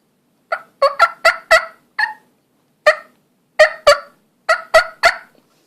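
A turkey mouth call imitates hen clucks: about a dozen sharp, short clucks in loose clusters with brief pauses, loud and close with no talking.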